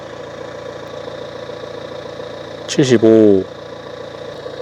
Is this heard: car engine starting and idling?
yes